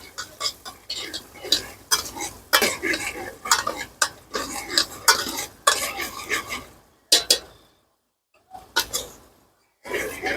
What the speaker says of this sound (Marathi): मित्रांनो कांदा लाल होजेपर्यंत आपण याला परतून घेऊया चांगलं.